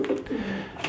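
Domestic pigeons coo softly in a short, low, throaty burst, close by, with little else audible.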